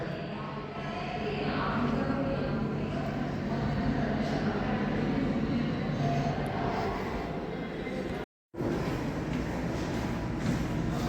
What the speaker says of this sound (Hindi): ये देखो पीली ट्रेन, बिल्कुल पीली येलो, गवर्नमेंट की है